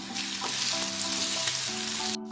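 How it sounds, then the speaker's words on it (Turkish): Onion and minced meat with green pepper frying in a pan, a steady close sizzle with faint clinks of stirring throughout, no voices. "Soğan ve kıymayı biraz kavuralım."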